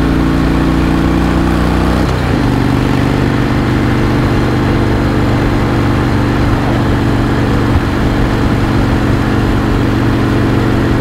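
Harley-Davidson Dyna motorcycle engine thrumming steadily while riding, a loud, constant low rumble with a short shift in pitch early on and wind noise layered over it.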